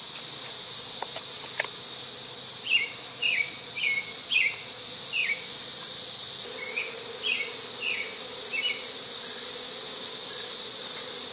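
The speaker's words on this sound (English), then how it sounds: "These bees are really calm." Honey bees from a calm young hive being transferred make a steady, even buzzing drone that runs throughout, with a few light bird chirps over the middle and no talking.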